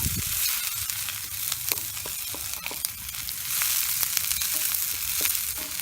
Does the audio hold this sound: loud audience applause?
no